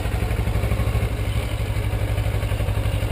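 A motorcycle engine is given a little gas, a close, rough, pulsing mid-pitched throb that holds steady without rising into a clear rev, with no talking.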